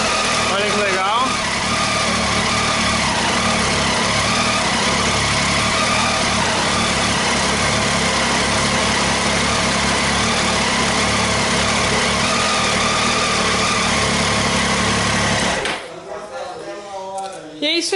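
A new Triumph Tiger 800 XCA motorcycle engine runs in gear, giving a steady, loud, continuous drone for about fifteen seconds before it drops off. A voice talks over it.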